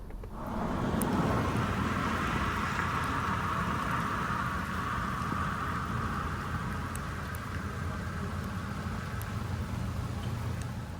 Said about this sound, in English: Hey, it's raining again.